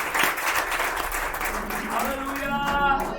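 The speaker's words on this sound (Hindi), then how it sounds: "दोनों ताली बजाकर अपने स्थान को ग्रहण करें।" A church congregation claps together during a Sunday service, with dense, sustained applause from a crowd that fades as voices rise near the end.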